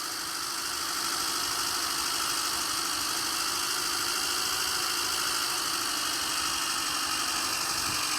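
A car engine idles steadily and close by for about eight seconds, a constant mid-pitched hum with slight vibration and no talking; the car is suspected of a radiator problem.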